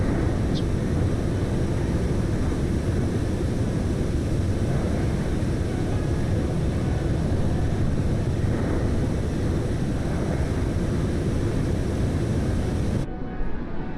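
A passing airliner in Microsoft Flight Simulator, on a flight from Lyon to Tromsø, gives a steady, full engine roar with low rumble. It holds evenly for about thirteen seconds before cutting off abruptly.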